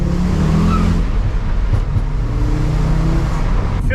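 Audi RS-engined Volkswagen Caddy van pulling hard through the gears, a loud, steady in-cabin drone of engine and road noise with brief dips around shifts.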